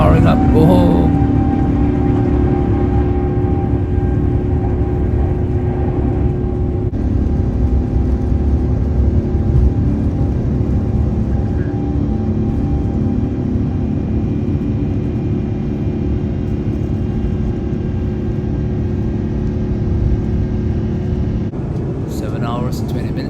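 Singapore Airlines airliner on the runway at Melbourne, engines spooling up for takeoff: a steady, loud cabin roar of turbine whine and rumble throughout, dipping slightly near the end.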